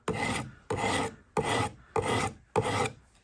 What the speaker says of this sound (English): with this round diamond file and just go over that edge